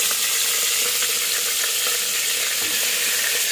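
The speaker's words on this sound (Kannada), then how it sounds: "ಸೊ ಚೆನ್ನಾಗಿ ಫ್ರೈ ಮಾಡ್ಕೋಬೇಕು ಮಟನ್." Washed mutton and onion fry in a pan with a loud, dense, continuous sizzle that holds steady from start to finish, close up and without talk.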